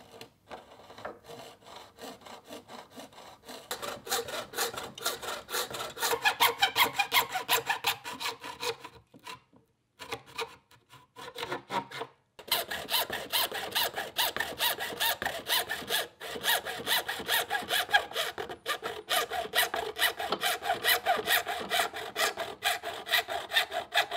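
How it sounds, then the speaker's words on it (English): A fine-tooth hacksaw cuts through a Perspex sheet in fast, rhythmic back-and-forth strokes, close and loud, pausing briefly midway before the steady sawing resumes. "The Perspex screen is then cut from a larger sheet using a fine-tooth hacksaw."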